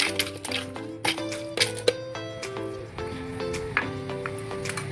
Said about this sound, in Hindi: बस थोड़ा सा भी बर्फ़ ऐड करेंगे इसमें से हाफ।